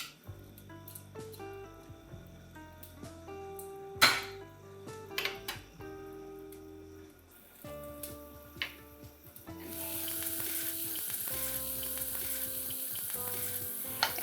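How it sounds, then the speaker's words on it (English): Rice grains frying in hot oil over medium-high heat while being stirred for Mexican rice, a steady sizzle with scraping and clinks of a utensil against the pan, the sizzle swelling louder and brighter toward the end. "And you want to keep stirring every grain of rice around so that all sides get cooked evenly."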